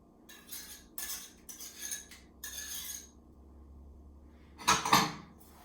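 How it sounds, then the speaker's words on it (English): A whisk in a bowl mixes eggs, sour cream and mashed bananas for banana bread, bursts of quick metallic clinking and scraping in several short bouts with pauses, ending in a louder clatter. "now we're going to start to really mix in those wet ingredients"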